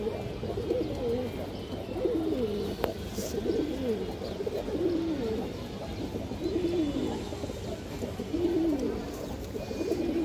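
Pigeon cooing from a lively ring-eyed domestic pigeon, a racing breed kept in a loft: repeated low rolling coos in a steady rhythm, close by, with a soft background hiss and no talk.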